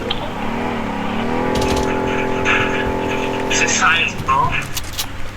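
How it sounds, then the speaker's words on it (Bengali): A car engine starts up in the shooter game Blood Strike, producing a steady droning hum that holds for a few seconds and then drops away, with a person talking over it. "গাড়ি গাড়ি গাড়ি অন করছে কেটা?"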